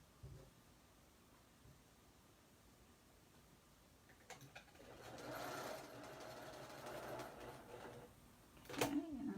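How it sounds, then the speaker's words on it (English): Sewing machine straight-stitching black fabric on a T-shirt dress, faint at first then a steadier mechanical whir of stitching in the second half, ending with a short sharper rattle. "I'm just going to stitch across and stitch that line."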